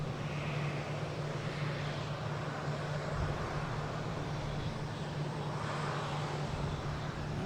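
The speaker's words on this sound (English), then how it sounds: "next we have an arrival coming in on 27. United Airlines coming in from LAX, a 737 MAX 9" A United Airlines Boeing 737 MAX 9 arriving from LAX on runway 27 at Boston Logan gives a steady, broad jet roar with a low engine hum, heard from a distance and without talk.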